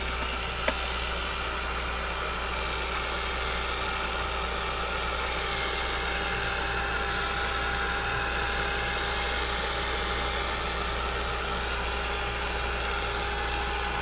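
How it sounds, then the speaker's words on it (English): A heat gun blows with a steady, unbroken whir at the same level throughout, running continuously close by while making a crackle finish on a craft frame. "if we want to do a crackle look, we need to use the heat gun."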